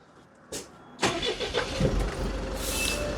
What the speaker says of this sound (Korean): 마지막으로 엔진 소리 한번 제가 들려봐 드리겠습니다.